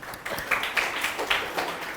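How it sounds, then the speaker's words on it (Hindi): A seated audience at a workshop session gives a faint, diffuse round of applause, with soft clapping rising and falling steadily over two seconds. "तालियां।"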